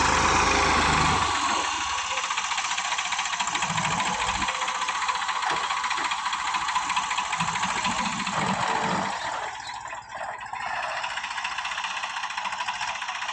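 A farm tractor used for sowing wheat runs in a steady mid-pitched drone, idling close by with a faint knock, dipping briefly near the end before resuming.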